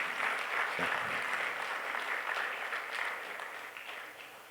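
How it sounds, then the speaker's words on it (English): An audience applauds at the closing and awards session of the DVCon India 2022 conference, a faint, steady wash of clapping that tapers slightly toward the end. "So please give a big round of applause to Shreya and the team."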